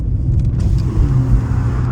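Tuned stage 2 BMW M5 Competition with enhanced exhaust crackle and pops, heard close and loud as a deep rumbling engine note broken by a few sharp bursts near the start.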